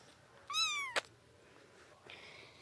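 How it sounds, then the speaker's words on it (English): A kitten gives one clear, close meow with a rising then falling pitch, followed by a sharp small knock and a quieter high tone later in an otherwise quiet room. "Did you hear that little meow?"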